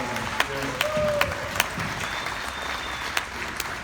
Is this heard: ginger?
no